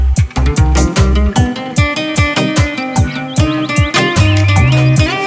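Chaffinch calls are looped into a dub remix, with rapid bright chirps repeating in a steady rhythm over pulsing bass notes and thick layered music, loud and up front.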